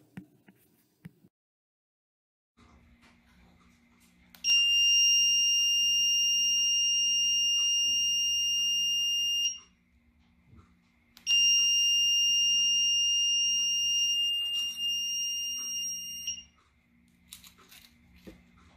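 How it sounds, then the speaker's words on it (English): An Arduino buzzer, triggered through an RF wireless module button, sounds a loud, steady high-pitched tone twice, each lasting about five seconds, over a faint background hum. "This causes the buzzer to turn on for 5 seconds and then turn"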